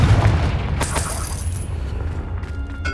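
A blasting Confringo spell in Hogwarts Legacy goes off as a short booming burst, a heavy low rumble with a bright crackling flash of debris that trails off quickly into a steady hum.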